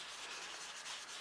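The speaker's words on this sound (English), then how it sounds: "I'm going over the edges so you get the nice colour along the edge of your card as well." Ink is rubbed along the edges of a stamped paper card, giving a soft, steady, continuous scuffing hiss that is faint and close, with no voices.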